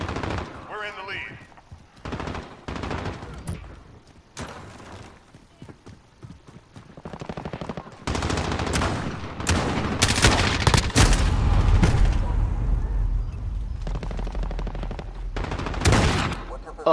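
Marksman rifle gunfire in Call of Duty: Modern Warfare multiplayer, sharp repeated shots in bursts with louder, denser firing in the second half, under occasional game sounds.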